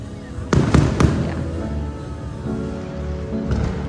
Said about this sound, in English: the whole time I was watching the fireworks